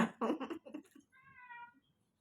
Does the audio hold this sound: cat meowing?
yes